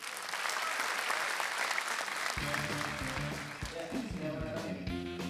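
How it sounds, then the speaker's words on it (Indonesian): A stand-up comedy audience applauds steadily throughout, a dense wash of clapping, and about halfway through stage music kicks in underneath the ovation. "Beri tepuk tangan untuk Gaby."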